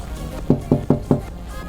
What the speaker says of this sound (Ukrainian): Тук-тук-тук, постукай віконечко